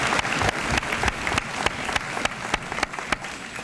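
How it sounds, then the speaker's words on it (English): An audience at a school honors assembly applauds a board trustee, producing sustained, dense clapping that fills the room steadily from start to finish with no talking over it. "let's give him a nice round of applause"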